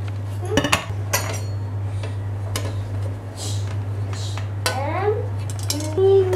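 A cooled cake for a tart is turned upside down onto a plate, giving scattered clinks and taps of dishware over a constant low hum.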